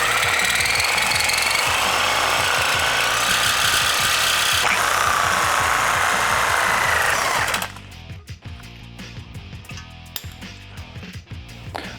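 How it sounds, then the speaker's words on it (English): Reciprocating saw with a fresh blade cutting through the tough steel frame body mount of a Ford Bronco, a loud, dense, rapid rasping buzz for about seven and a half seconds, then stopping abruptly into quieter workshop clatter. "get yourself a brand new Sawzall blade, because these frames can be kind of tough steel to cut through"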